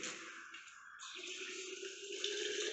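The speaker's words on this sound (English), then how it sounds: "we have to fill this pycnometer bottle with water in it" Water runs from a tap into a pycnometer bottle during a soil specific gravity test, making a soft, steady trickle whose tone shifts as the bottle fills.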